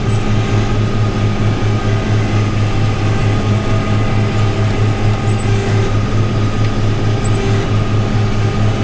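A vehicle rolls through a parking lot area, its engine a loud, constant low drone with a steady hum and no change in pace, while a few faint high chirps sit far in the background.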